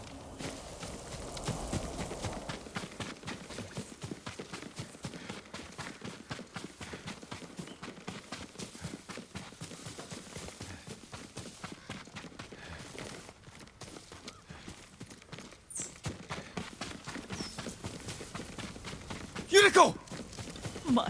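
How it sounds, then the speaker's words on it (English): A horse in the samurai video game Ghost of Tsushima clops along with steady, even hoofbeats at close range. Voices speak over the rhythmic walking, and a sharp burst comes near the end. "Yuriko's horse. She can't be far."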